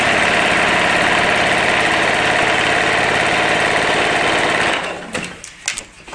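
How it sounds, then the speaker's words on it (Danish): Sewing machine running a side seam, loud and close with a continuous rapid whirring drone for nearly five seconds before it stops, followed by a few soft clicks and fabric handling sounds. "og så syr jeg ellers bare derudad"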